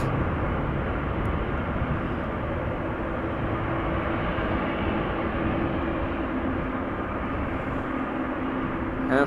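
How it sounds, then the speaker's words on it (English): A KLM Boeing 737-800, flight 1701 to Madrid, takes off at Amsterdam Schiphol, its engines a loud, sustained roar that stays steady throughout with no voices. "KLM flight 1701 going to Madrid"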